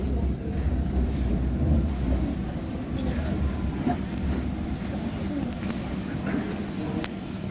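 A London Underground Circle Line train runs with a steady low rumble and rattling wheel noise, close and continuous throughout, with faint voices at times.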